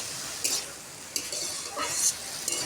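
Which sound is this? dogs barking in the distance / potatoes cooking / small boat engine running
potatoes cooking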